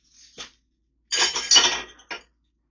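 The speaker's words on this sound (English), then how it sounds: "we're going to scramble 2 eggs" Two eggs get whisked in a bowl, heard as a short clink of utensil on the bowl, then a busier burst of clattering strokes and a final tap, close by with no talking.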